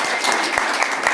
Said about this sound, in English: let's give them a round of applause before we even begin